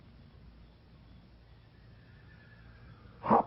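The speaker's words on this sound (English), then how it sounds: "I think that's my dun stallion." A dun stallion neighs at a distance, one short whinny that rises out of a quiet, hushed outdoor background right at the end.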